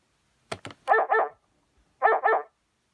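A dog barks in two quick double bursts with a short pause between, preceded by a couple of sharp clicks, close and clear in otherwise silence.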